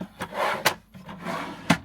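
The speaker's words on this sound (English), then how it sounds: "mechanism, twist here, that releases the table out," A freestanding table is released from its storage in the sliding door of a VW T7 camper: a few sharp wooden knocks and clicks separated by soft rubbing and scraping, close and fairly quiet.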